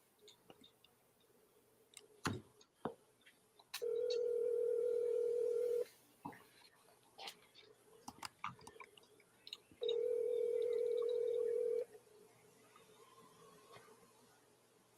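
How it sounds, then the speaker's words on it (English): Telephone ringing on an unanswered call, with two long steady ring tones a few seconds apart among soft clicks and handling noises, fairly quiet and close. "It was ringing forever."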